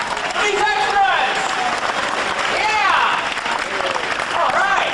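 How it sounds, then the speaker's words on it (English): A crowd at a Disney World attraction applauds film extras as they come out, a dense, steady wash of clapping with cheering voices and whoops rising over it. "let's give a nice big round of applause for these extras!"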